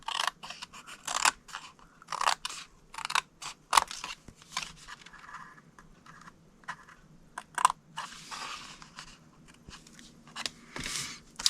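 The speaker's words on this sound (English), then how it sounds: "cut that to the first score line, and then cut 1, 2, 3, all these 3 pieces off" Scissors cutting scored paper pieces for a paper-craft treat box, with repeated sharp snips and crisp paper crunches in uneven bursts and quiet gaps between, close up.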